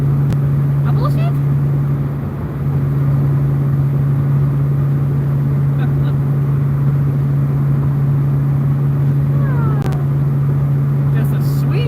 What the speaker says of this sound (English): Just a sweet sound of no emissions equipment through dual flow pro mufflers out back